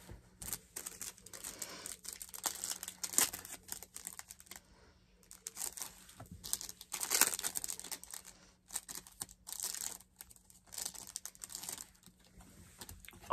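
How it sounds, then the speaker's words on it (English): Plastic wrapping is peeled off enamel pins in close, crinkly bursts of rustling and tearing, with brief pauses between handling sounds. "let me take the plastic off of these so they're not as shiny"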